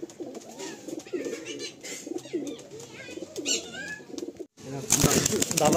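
Young pigeons in a loft coo softly and shuffle about in a steady low murmur, ending with a burst of wing flapping close by.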